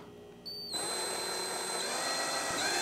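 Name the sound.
power drill pre-drilling wood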